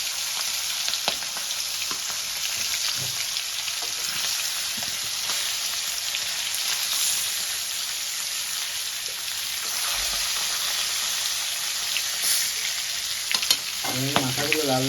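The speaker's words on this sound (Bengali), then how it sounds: "এবার আমি মাথাগুলো এক এক করে দিয়ে ভেজে নেব" Katla fish heads fry one by one in hot oil in a wok, filling the scene with a loud, steady crackling sizzle, occasional stirring clatters, and a brief tonal whine near the end.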